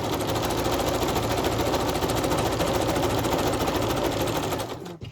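Close, loud sewing machine stitching through an old book page, a steady fast mechanical whir running continuously before stopping abruptly at the end.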